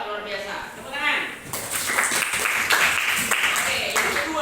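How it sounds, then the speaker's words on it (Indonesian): Applause in a classroom follows a teacher's speech, a burst of clapping from a group of students that starts partway through and continues steadily and close, with voices mixed in. "Tepuk tangan."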